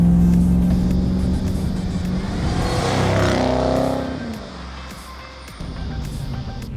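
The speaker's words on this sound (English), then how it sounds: "And the exhaust, quite frankly, is just the icing on the cake. It sounds fantastic." A Ford Falcon 'Holy Grail' engine revs hard with a throaty exhaust roar, climbing and then dropping away as the car moves off, no voices present.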